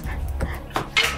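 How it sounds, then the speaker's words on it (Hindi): Kitchen pots and utensils falling: a quick burst of metallic clattering and clanking, with a bright ringing clang at the end, heard close and without speech. "ये बर्तन गिरा दिए, क्या कर रहे हो तुम लोग?"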